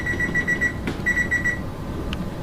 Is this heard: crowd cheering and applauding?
no